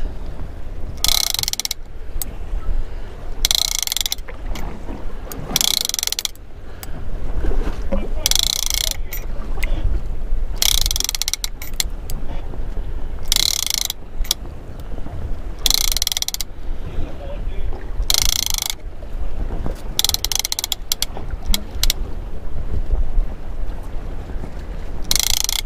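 A fishing reel winds in line on a boat during tuna fishing, giving loud, close, repeated ratcheting cranks in regular bursts over wind noise, with a voice talking at times.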